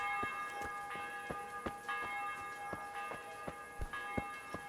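Church bell in the Kingdom Come Deliverance video game tolling at six o'clock, heard as regular, evenly spaced strikes with a ringing metallic hum, moderately faint against a steady ambient background, without speech.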